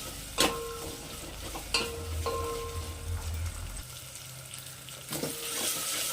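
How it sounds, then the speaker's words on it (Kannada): Chopped tomatoes frying in a little oil for a sambar, a continuous close sizzle with a few sharp scrapes of a spoon against the pan scattered through it. "ಇದು ಸ್ವಲ್ಪ ಎಣ್ಣೆಯಲ್ಲಿ ಚೆನ್ನಾಗಿ ಫ್ರೈ ಆಗಲಿ"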